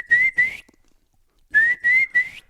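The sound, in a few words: whistled kiki run, imitating a turkey hen's flock-gathering call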